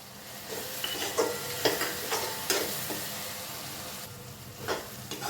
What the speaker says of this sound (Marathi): थोडंसं याला परतून घेतलं गॅसची फ्लेम आता लो ठेवलेली आहे